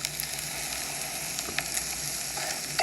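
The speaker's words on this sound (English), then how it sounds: "it should now sizzle on the edges of the pan" Steady hiss of soy sauce sizzling in a hot pan, continuous and close, with occasional small crackles and no talking.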